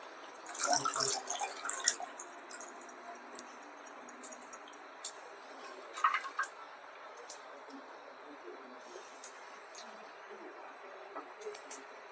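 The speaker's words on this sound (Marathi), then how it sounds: "आता ही एका पाण्याने धुवून घेऊ आपण" Wild bendri flowers washed in water, giving quiet, scattered drips, trickles and small splashes close by, with no talk.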